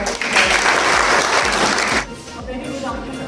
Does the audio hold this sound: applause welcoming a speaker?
yes